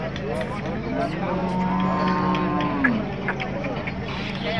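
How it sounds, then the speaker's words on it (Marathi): A black bull lows at a crowded cattle market at Lasur Station, one long drawn-out moo near the microphone, set amid general crowd chatter and background noise. "बैल पहा मित्रांनो एकदम काळ्या तापड बैल आहे"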